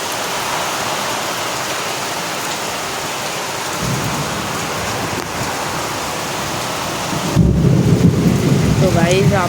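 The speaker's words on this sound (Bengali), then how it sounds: "এত জোরে বৃষ্টি হচ্ছে" A heavy thunderstorm in Uluberia, with loud steady rain pouring close by and deep thunder rumbling in twice, the second roll stronger, and a brief voice near the end.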